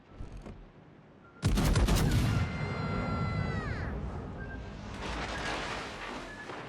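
Naval guns aboard the Preußen warship in World of Warships: Legends fire a heavy salvo, a sudden loud booming burst followed by a long rumbling roll and whistling shells.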